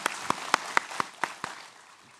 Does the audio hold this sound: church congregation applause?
yes